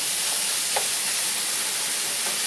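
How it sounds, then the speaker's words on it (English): Ground beef and seasoning sizzle in a pan with a constant, even hiss that stays loud and close throughout, marked only by one faint tick partway through. "let the seasoning cook with the ground beef"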